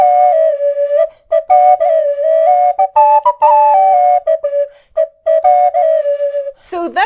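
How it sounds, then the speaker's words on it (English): A 3D printed telescopic tin whistle plays a bright, clear melody alone, with short separated notes, quick pitch changes and brief gaps between phrases, ending in a fast upward flourish. "today's incredible telescopic Tele tunes tin whistles"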